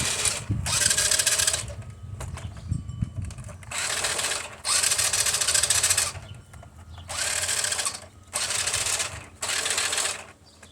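Several bursts of high, whirring electric motor noise from two oiled motors of a 1992 Tyco Fast Traxx toy RC car, forward and reverse, each lasting about a second or two, separated by short pauses, close and fairly loud.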